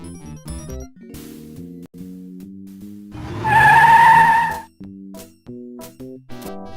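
A cartoon car from the adventure game Sam & Max Hit the Road gives a loud, brief tire skid of about a second, rising above a plinking game music score.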